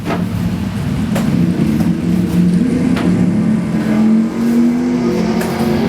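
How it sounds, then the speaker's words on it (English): A 1969 Cuda with a 440 and a 396 Camaro drag race down the strip, a loud, steady engine roar that holds and shifts pitch as they accelerate hard, close and continuous throughout. "Monica moving hard in her 396 Camaro, trying to catch that 440 Mopar"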